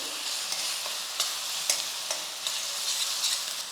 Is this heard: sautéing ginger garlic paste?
yes